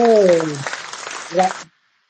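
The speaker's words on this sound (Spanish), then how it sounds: "sonaron unos aplausos a estos intelectuales" Clapping from an audience saluting intellectuals in a talk on history's notable figures; a brief burst of applause with a voice speaking over its start, then fading out quickly.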